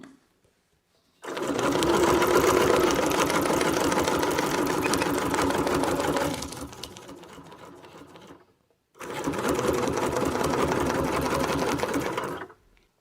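A sewing machine stitches out wreath templates in two bursts: a long steady mechanical hum, then a slower softer stretch, a pause, and a second run of even stitching, close and without speech.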